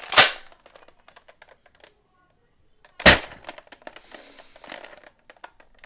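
A single sharp gunshot bursts out near and loud, followed by scattered clicks and rustles, then a second loud shot about three seconds later with more handling noise trailing after.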